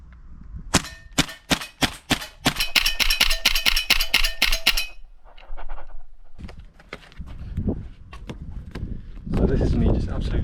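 A Tokyo Marui MP7 gas blowback airsoft SMG fires through a whole magazine: a few single sharp cracks, then a rapid burst of clanging shots, followed by quieter handling noises, close and loud.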